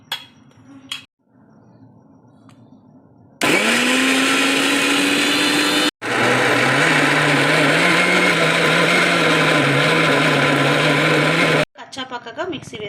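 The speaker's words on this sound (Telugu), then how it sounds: "ఇట్లా మిక్సీ చేసేసుకుందామండి." A kitchen mixer grinder blitzes soaked chana dal with green chilli, cumin and fennel in two loud, steady bursts of whining motor roar separated by a brief stop, with quieter handling sounds and clicks before and after.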